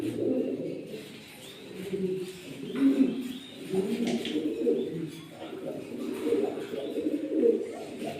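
Running pigeons at a farm cooing close by, several overlapping low throaty coos rising and falling in bursts, with faint background noise.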